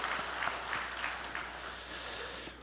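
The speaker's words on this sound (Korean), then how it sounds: "다시 한번 박수할까요?" Congregation applause fills a church during a Sunday worship service, steady and sustained clapping from a large crowd that fades slightly at the end.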